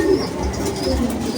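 Racing pigeons in a loft, a steady low cooing murmur filling the space, continuous and fairly loud with no talk over it.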